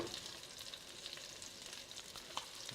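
Breaded meat browns in a frying pan with a close, steady crackling sizzle and fine spitting hiss, unbroken and without any talking.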